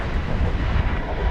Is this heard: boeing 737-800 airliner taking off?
yes